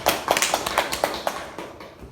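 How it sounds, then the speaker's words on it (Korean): A short burst of hand clapping, about eight or nine sharp claps in a quick even rhythm, fairly close and moderately loud. "박수!"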